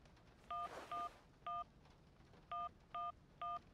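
Six crisp telephone keypad tones from the video game Syberia, evenly spaced short beeps with a slight gap in the middle, faint and clean, without any talk.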